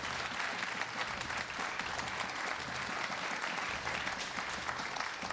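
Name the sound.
round of applause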